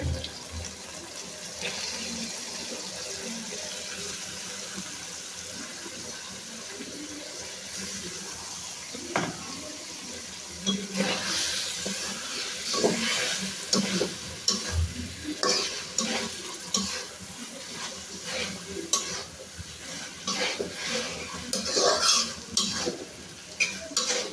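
Pieces of mutton sizzle and fry in a hot pan while being stirred for a Lahori mutton curry, a steady close hiss with scraping and clinking of the spoon that grows busier and louder partway through.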